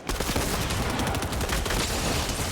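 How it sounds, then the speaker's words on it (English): Rapid, dense gunfire from a Havoc shotgun with an SMG follow-up during a team deathmatch in a competitive shooter match, loud and continuous with overlapping bursts. "This Havoc Shotgun does a lot of damage with the SMG follow-up."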